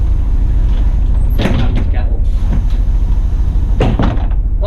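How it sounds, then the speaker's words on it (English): Bus doors slide and thud shut several times, with mechanical clunks and hisses against a steady low engine rumble and a few voices in the background. "Got to check the doors are working from the cab."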